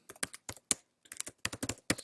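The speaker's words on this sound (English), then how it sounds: "I can't type password and speak at the same time." A password is typed on a computer keyboard in quick bursts of crisp keystrokes with a brief pause midway, close and quiet, with no voice.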